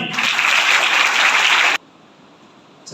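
Loud, dense applause from an audience at a school function honouring the event's chair, steady for nearly two seconds before cutting off abruptly into near silence.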